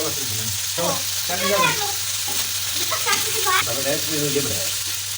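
Steady sizzling of liver frying with garlic and ginger paste on a griddle, running continuously under a person's talking.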